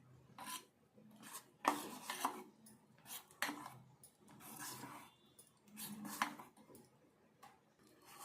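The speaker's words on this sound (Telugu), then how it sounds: "ఇప్పుడు కొంచెం ఈ మిర్చి పౌడర్ వేసుకోవాలి. వేసుకొని ఇదంతా కలుపుకోవాలి." Sago dosa batter with chili powder is stirred in a bowl, giving soft, repeated scraping and rasping strokes in an uneven rhythm, close but faint, with no talk.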